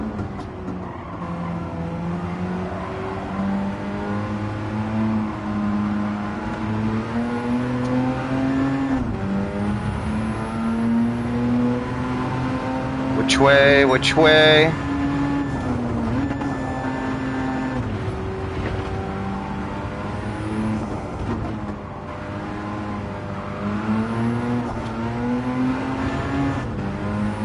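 Race car from Gran Turismo 7, engine droning steadily and loud throughout with a brief sharper burst midway, while a voice speaks briefly over it.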